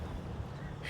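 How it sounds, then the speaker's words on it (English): A steady outdoor gust of wind roars as a broad, low rumble while planting giant kale in a tilled garden, continuous and fairly faint, with a brighter hiss building at the very end. "Big old gust of wind just hit us."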